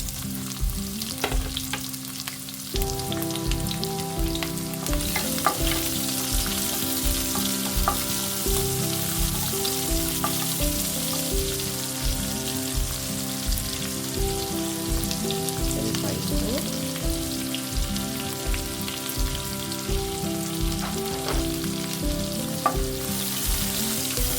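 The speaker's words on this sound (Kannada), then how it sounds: "ಎಲ್ಲ ಈರುಳ್ಳಿ ಫ್ರೈ ಆಗಿದೆ. ಗೋಲ್ಡನ್ ಫ್ರೈ ಆಗಿದೆ." Onion and cumin fry in oil with mustard seeds in a pan, a loud, dense, unbroken sizzle with stirring noises over a steady low rhythmic thumping, no talking.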